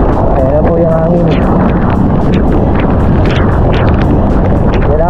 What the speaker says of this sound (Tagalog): Ayan po yung hangin.